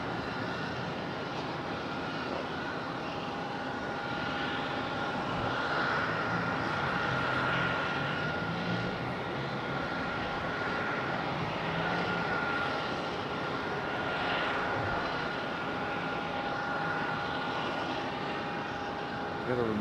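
A CRJ regional jet spools up its engines at an airport, a steady broad roar with a faint rising whine, heard from a short distance below while faint voices murmur in the background.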